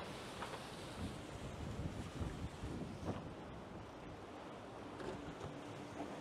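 Strong wind buffets the microphone while waves rush and splash against a moving Ultim-class racing sailboat at sea, a continuous roaring wash with occasional slaps of water.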